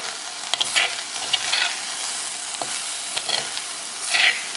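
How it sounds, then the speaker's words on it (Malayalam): Dried fish peera with kanthari chillies is stirred in a pan over low flame, with crisp scraping strokes in bursts over a constant sizzling hiss, close and alone without speech. "നമുക്കിത് ഒന്നുകൂടെ ഒന്ന് ഇളക്കിയെടുക്കാം"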